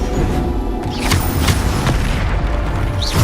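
Booming Bombarda blast spell from the video game Hogwarts Legacy, several heavy explosive thuds with sharp whooshing accents over a loud, busy game mix.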